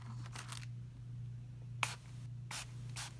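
A spray bottle mists homemade alcohol ink made from dollar store items in four short, quiet hissing bursts, spaced unevenly over a faint steady electrical hum.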